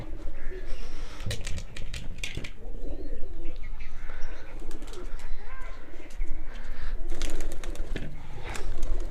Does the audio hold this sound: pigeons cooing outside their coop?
yes